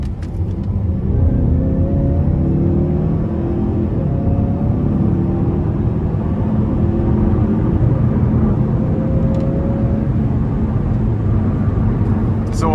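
A 2019 Mazda CX-5 Signature in sport mode accelerates at full throttle, a loud, continuous engine rumble and road noise rising steadily throughout from inside the cabin.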